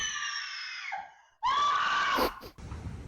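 A woman's high, drawn-out scream in a video game, then a short pause and a second, louder scream that breaks off abruptly, followed by muffled background noise.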